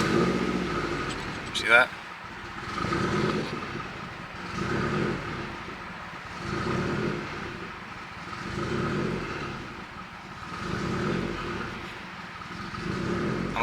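A Subaru WRX with a Tomei exhaust revving at a gas station: repeated rising and falling engine swells, each lasting about two seconds, heard moderately loud under a person talking.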